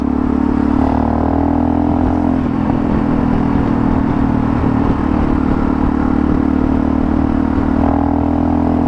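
Steady droning engine noise of five motorcycles ahead on a road, heard while riding a Tenere, continuous and fairly loud, with a humming tone rising and falling slightly.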